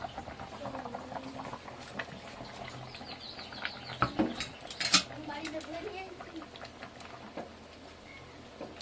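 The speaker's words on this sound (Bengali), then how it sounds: "মাছের ঝোলটা ফুটে উঠেছে" Fish curry (macher jhol) with malabar spinach bubbles in a pot, a soft steady boil with occasional utensil clinks and brief louder splashes, while someone talks.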